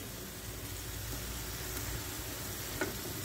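Steady, dense sizzling of julienned red peppers frying in a pan for chicken fajitas, with a brief clink of a utensil near the end.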